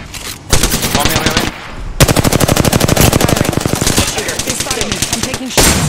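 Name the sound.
gunfire from a video game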